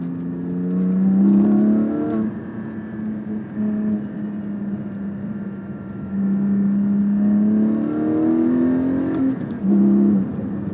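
A Porsche 718 Cayman GT4 with its 4-liter engine, heard from inside as it pulls through rising revs, eases off, then climbs again in strong loud surges with a smooth whirring tone.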